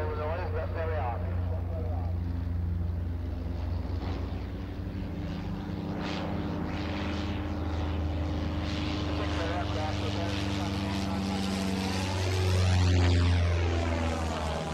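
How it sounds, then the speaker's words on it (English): Several vintage aircraft engines run at once at an airfield, making a dense, continuous propeller drone that swells near the end as one passes close, while someone talks under the noise. "So many engines running around me"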